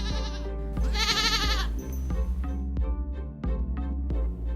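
Several loud, close goat bleats with wavering, nasal cries, clustered at the start and repeating through the stretch, with no voices.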